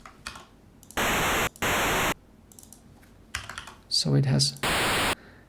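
Bursts of harsh, buzzy 17-bit synthesized noise, a square wave modulated by white noise, switch on and off abruptly, with a few seconds of brief speech between them.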